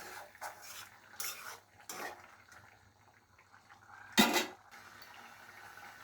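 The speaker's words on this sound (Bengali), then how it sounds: "ঢাকনাটা উঠিয়ে আর একটু নেড়ে চেড়ে দেব।" A pot lid is lifted and duck curry is stirred in a pot, giving a few faint scrapes and soft clinks before one sharper, louder metallic clatter near the end, with quiet kitchen background.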